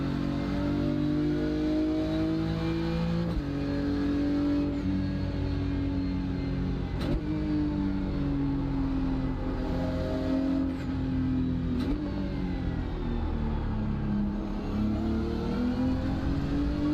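A BMW race car on the Road Atlanta circuit in the iRacing sim, its engine droning loud and steady throughout, pitch rising and falling through gear changes and revs with no pauses.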